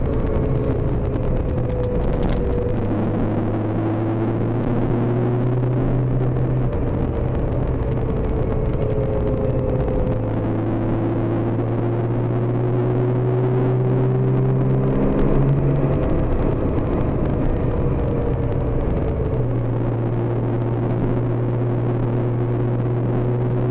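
A raised Porsche safari car cruises on the road, its engine droning steadily with pitch stepping through gear changes under constant tire and wind rumble, loud and close.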